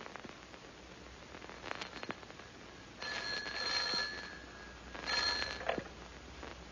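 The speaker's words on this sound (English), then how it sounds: "Almost at once, the telephone rang." An old telephone rings in two bursts of bright, trilling bells over a hissy, noisy background, each ring lasting about a second.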